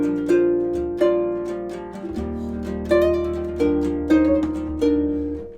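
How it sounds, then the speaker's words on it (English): Harp notes ring out in a series of plucked, bright chords and sweeping pedal glissando phrases, each attack decaying before the next, close and clear with no talking. "So the theme has a little pedal glissando sound like this."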